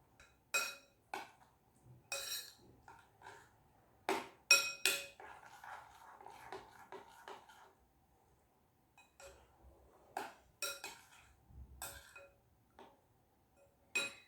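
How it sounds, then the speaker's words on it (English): A spoon clinks against a bowl while vegetables, almonds and curd are mixed, giving scattered sharp taps and scraping strokes in irregular clusters, fairly faint and close, with no voices. "Okay, and mix it. Need to mix it well."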